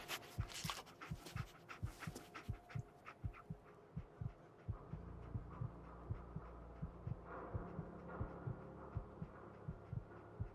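Dogmeat, the dog in Fallout 4, pants and sniffs while tracking a scent, in rapid rhythmic breaths that stay fairly quiet and close, over a low steady hum.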